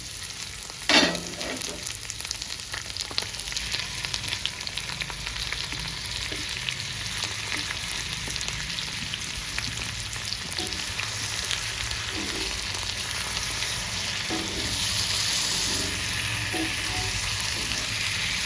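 Marinated chicken with salt, chili, masala and ginger-garlic paste fries in a pan, a steady close hiss of sizzling oil with occasional light clinks and stirring scrapes.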